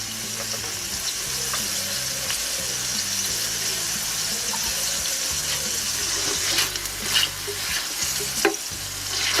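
Paella ingredients and garlic frying on a Lidl mini kamado, a steady, close sizzle with occasional scraping stirs and clanks of a utensil in the pan, over a faint low musical hum.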